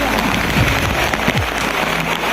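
Heavy rain pours down on the Girnar hills near Junagadh, a dense continuous hiss of drops on surfaces with running water, loud and close throughout, with no clear talk.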